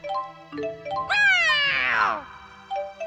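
A cat meows in Tales of Xillia 2, a clear, rising and falling cry of about a second over soft game music with chiming notes.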